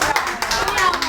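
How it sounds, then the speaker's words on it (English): Brief round of applause at an accelerated learning seminar, a short burst of hand clapping mixed with voices talking over it. "A round of applause for him."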